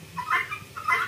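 Guinea fowl on a poultry farm give a few short, harsh calls close by, two clustered bursts of clucking chatter with low background noise and no talking.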